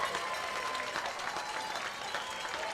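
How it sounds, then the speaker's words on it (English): Steady, distant applause from LaJoya Coyote fans at a high school playoff baseball game, a continuous wash of clapping from the stands with a faint crowd murmur. "Well-deserved round of applause by the LaJoya Coyote faithful."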